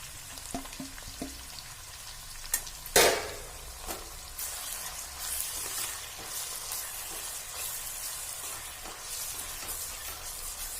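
Garlic and ginger frying in a pan for a sweet-sour carrot and cauliflower pickle: a soft, steady sizzle with a few sharp clinks of a spoon against the pan early on.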